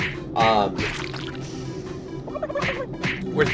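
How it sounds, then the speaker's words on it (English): Turkeys gobbling in a Doom 3: BFG Edition game scene as they are punched, several warbling gobbles in short bursts over a few seconds, with someone talking at times. "while I'm punching the absolute hell out of these turkeys"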